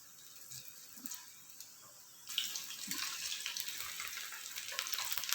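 Baby corn deep frying in oil, a faint quiet start that swells into a steady hissing sizzle with soft crackles, close and continuous.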